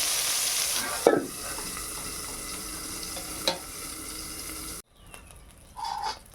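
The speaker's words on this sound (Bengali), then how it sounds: "বেগুন ভাজা হয়ে গেছে, এবার তুলে নেই।" Sliced eggplant frying in hot oil in a home kitchen, a steady close sizzle with a couple of sharp stirring clicks, cutting off abruptly before quieter kitchen sounds.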